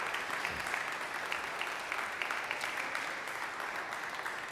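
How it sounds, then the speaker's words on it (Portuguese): Church congregation applauding at a baptism service, a continuous dense clapping from a large crowd, evenly sustained and somewhat distant in the room. "Isso, pode aplaudir mais"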